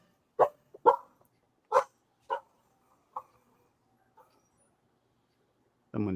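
A dog barks indoors as someone enters, a series of sharp separate barks spaced across the first few seconds, fading to quieter yips, with a brief louder noise at the end.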